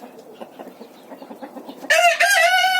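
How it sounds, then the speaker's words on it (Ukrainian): Soft, scattered clucking from chickens gives way to a loud, sustained rooster crow that rises and holds near the end. "Ой, кури пішли сюди."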